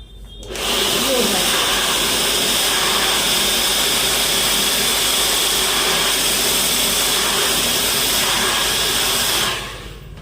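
A hair dryer blows loudly and steadily for about nine seconds during a parlour blow-dry, starting and stopping abruptly with a constant close whoosh and hum.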